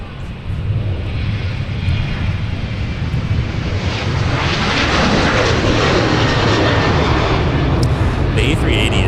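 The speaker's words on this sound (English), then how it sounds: "The A380 is it's one of those jets that it's really hard to appreciate just how big it is" Loud, close roar of an Airbus A380 jet airliner at Minneapolis–Saint Paul (MSP) airport, a sustained broadband engine rush that swells and holds, with people talking over it.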